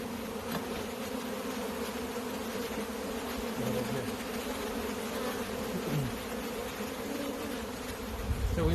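Honey bees buzz steadily around an open hive in Michigan during brood frame removal, a dense continuous drone close by with no speech.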